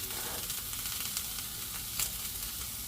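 Thin slices of bologna fry in a cast iron skillet that is not quite hot enough, giving a soft, steady sizzle with occasional faint pops, close up and with no voices.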